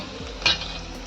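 Stuffed okra (bharli bhendi) stir-fries in a pan with a close, continuous sizzle, and a single brief scrape of stirring midway.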